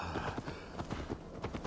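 Horse hooves galloping in the video game Assassin's Creed Valhalla, a quick rhythmic run of soft thuds, fairly quiet and steady under faint background game sound.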